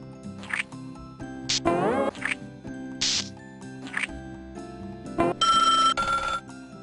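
Electronic telephone ringing from a 1997 educational PC language game, several short synthetic ring bursts mixed with other cartoonish game sound effects and chirps, clean and close.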